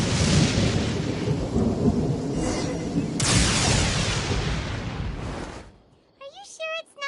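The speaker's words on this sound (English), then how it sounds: "Quite a downpour." Heavy rain pours in Genshin Impact while thunder cracks and rumbles loudly, a sharp clap midway rolling off before the downpour fades out into quiet musical tones at the end.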